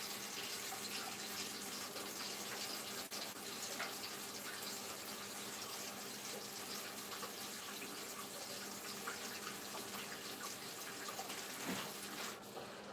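Water runs steadily from a tap into a pan for dinner, a continuous soft hiss and splash heard alone and fairly quiet throughout.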